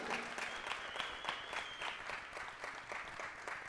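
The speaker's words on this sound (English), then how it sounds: "Big applause to Mrs. Irina Shennick." Audience applause for medal winners at a para shooting sport World Cup ceremony, mixed 50m rifle prone event in Lima: steady, moderately distant clapping from a crowd throughout, with no talk.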